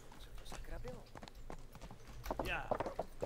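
Horse hooves clip-clopping while riding in the medieval video game Kingdom Come: Deliverance, a steady rhythmic series of hoofbeats that runs throughout under a voice.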